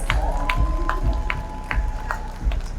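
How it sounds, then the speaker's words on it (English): A crowd cheers and claps steadily, with a high whistle and a few loud shouts rising above the continuous noise. "Big round of applause for Siddhant, please."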